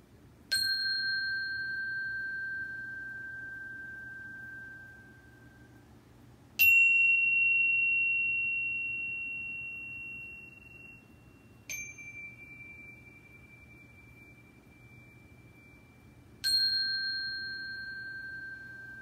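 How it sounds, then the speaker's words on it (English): A mindfulness chime is struck four times, about five seconds apart. Each clear, ringing tone fades slowly before the next strike, with no other sound around it. "And that is our chime meditation for today."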